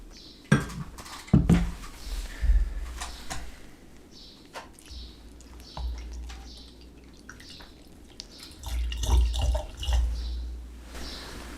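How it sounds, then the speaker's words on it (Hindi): Water splashes and trickles as it is poured into small clean bowls while preparing a four-herb hydrosol, with scattered clinks of bowls and a few soft drips between pours, close and fairly quiet. "अब इसमें पानी थोड़ा सा और डालते हैं।"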